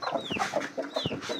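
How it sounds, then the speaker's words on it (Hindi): An agitated Aseel rooster clucks in quick, repeated bursts close by, its calls rising and falling with sharp squawky edges and no talking over them. "किसी भी मुर्गा मुर्गी मार देता है ये मुर्गियों को देख कर बहुत वो हाइपर हुआ है।"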